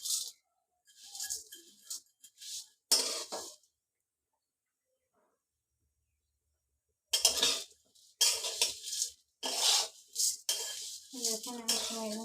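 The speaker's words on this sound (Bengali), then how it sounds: "এখন আমি সিমুইগুলো ভেজে নেব।" Simui vermicelli is fried and stirred in a kadai over a gas flame, heard as bursts of metal utensil scraping and clinking against the pan, separated by a long quiet gap.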